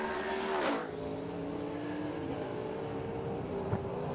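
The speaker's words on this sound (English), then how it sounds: "Scott Reed in the number 25 Trans Am Ford Mustang, and Michael Robinson in the Sports Sedan Holden Monaro" Racing engines at a NSW motor racing championship round, including the number 25 Trans Am Ford Mustang and a sports sedan Holden Monaro. A sustained, droning engine roar holds steady, with one car sweeping past up close early on.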